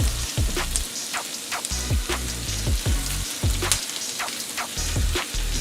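Garlic and butter sizzle in a pan while orange roughy is pan-seared, a steady close crackle and spatter with small pops throughout and nobody speaking.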